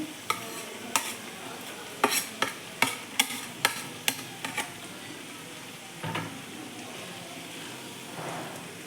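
A spoon scrapes and stirs grated coconut and coriander leaves into a pumpkin stir-fry (palya) in a pan. A quick, rhythmic series of close scraping strokes is followed by quieter, scattered stirring.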